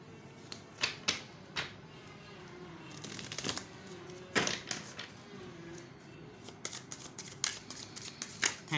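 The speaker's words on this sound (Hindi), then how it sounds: "I need to shuffle this deck, ज़्यादा करना पड़ेगा।" A deck of tarot cards is shuffled by hand in a quiet room, giving repeated crisp riffles and sharp flicks in irregular bursts, close and fairly soft.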